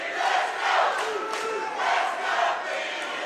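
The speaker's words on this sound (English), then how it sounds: "Crowd chanting along." Crowd at a cage fight chanting in rhythmic, swelling waves, a dense roar of many voices rising and falling in a steady cadence.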